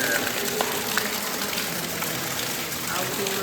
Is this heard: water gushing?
yes